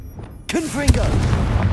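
A Confringo blasting spell goes off in Hogwarts Legacy: a short burst and a sharp boom land just as a voice shouts the incantation, followed by a rumbling tail over steady game ambience.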